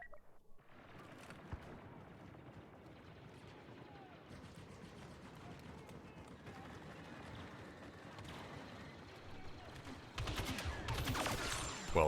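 Gunfire from the NT-242 sniper rifle in Star Wars Battlefront 2, amid a busy battlefield of rapid shots and mechanical clatter, building to a loud burst of heavy fire near the end.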